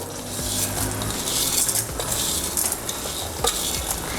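Chana dal, urad dal and toor dal, a tablespoon each, fry in hot oil for curry leaf rice. They give a steady close sizzle with stirring scrapes and a few light clinks, and there is no talking.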